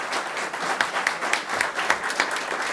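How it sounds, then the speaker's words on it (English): An audience at a candidates' debate claps steadily and moderately loud for a few seconds after a statement. There is no voice over the clapping. "Now you can applaud."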